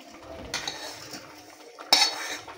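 A spoon scrapes and clinks against a metal pot while stirring a mixture into dal water, with soft swirling sounds between a few sharper knocks.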